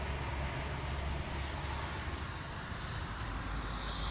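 A 70mm electric ducted fan F-16 model jet makes a low pass down the runway. A steady, broad rushing whoosh holds at moderate loudness, and a faint whine rises toward the end.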